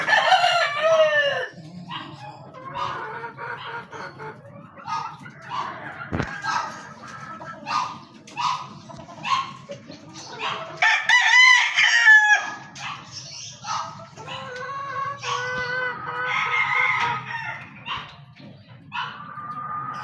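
Backyard chickens cluck and a rooster crows repeatedly near a hen about to lay an egg, with a dog barking now and then; busy, fairly loud fowl calls fill the whole stretch without talk.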